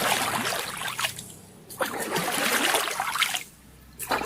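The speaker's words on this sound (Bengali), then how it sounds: "টুপটাপ করে বৃষ্টি পড়ছে।" Rain falls on river water, heard as a dense hissing patter that comes in several bursts with brief quieter gaps, fairly close and with no voices.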